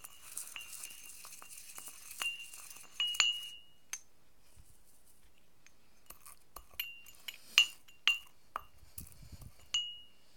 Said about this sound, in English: give them a bit of a bashing. Just being careful not to overturn and therefore spill the contents of my mortar and pestle.